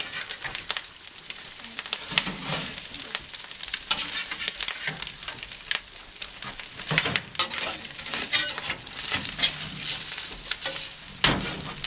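An egg fries on a wood cookstove for a homemade breakfast sandwich, with steady crackling sizzle throughout and occasional scrapes and clinks of a spatula against the cooking surface.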